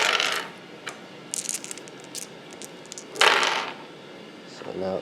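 Seven dice are rolled during a Warhammer tabletop battle between Tyranids and Eldar, giving clattering bursts of rattling dice on a hard surface, with the loudest tumble in the middle, close and moderately loud.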